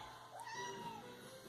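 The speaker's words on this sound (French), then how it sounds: "moi, on vient d'avoir un chat." A single drawn-out meow from a newly adopted pet cat in a home, rising then falling over about a second, fairly close and clear against quiet room tone with no talk.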